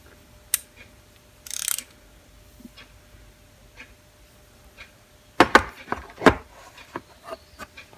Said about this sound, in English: The ratchet handle works great.